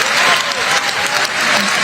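Loud, dense applause from an audience at a Philippine political gathering, a steady roar of clapping throughout with a bit of crowd murmur underneath.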